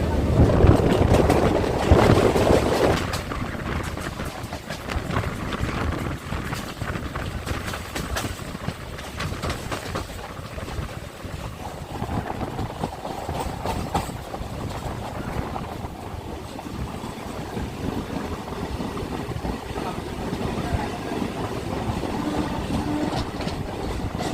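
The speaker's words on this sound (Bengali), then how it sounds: "আমাদের ট্রেন প্রবেশ করেছে ব্যারাকপুরে" Ranaghat to Sealdah local train running on rails, a steady rolling rumble with rattling carriage noise and wind, loud at first and then easing into a constant drone.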